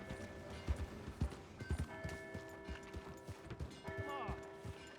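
A horse gallops in Red Dead Redemption 2, quick clopping hoofbeats thudding in an uneven rhythm over soft background music and a brief whinny-like sound near the end.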